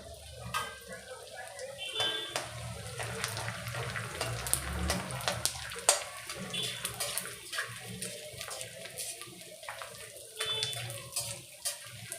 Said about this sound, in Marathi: आता आपण थोडा थोडा डिंक टाकून चांगला फुलवून घेऊया